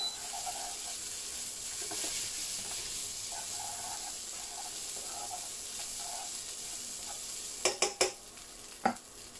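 Spätzle fry in a pan with a soft continuous sizzle while a utensil stirs them in gentle periodic scrapes, ending with a few sharp clinks against the pan.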